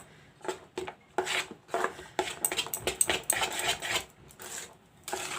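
Cake batter with raisins being mixed in a bowl without an oven, heard as repeated scraping and clinking of a spoon against the bowl in irregular bursts, close and fairly quiet, with no talking.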